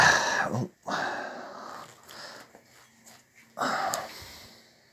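Close up, a dog sniffs and breathes heavily after wolfing down a tin of food. Bursts of wheezy, snorting breaths come with short pauses between them.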